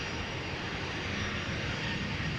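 Boeing 737 jet bound for Glasgow at Amsterdam airport gives a steady, continuous engine roar that stays loud and even throughout, with no talk over it.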